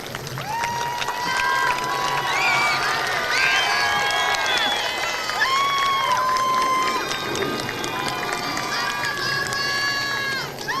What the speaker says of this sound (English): please stand and give your loved ones the heartfelt applause they deserve